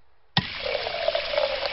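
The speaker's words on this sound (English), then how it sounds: "Daddy, can we have some water in our bucket, please?" Cartoon water gushing from a fountain into a bucket: after a brief quiet moment, a sudden, strong, steady splashing pour begins close by and keeps running, with no talk over it.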